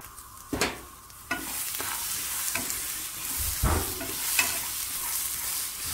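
Red guaje seeds stirred around a hot frying pan, a soft continuous sizzle and rattle with a few sharp scrapes and knocks of the spoon against the pan, heard alone without talk.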